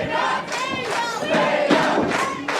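A wrestling crowd at an SLA Circus Maximus event cheers and shouts for Davey Vega in a bloody two-out-of-three-falls match against Gary Jay, a steady, loud roar of many voices swelling throughout.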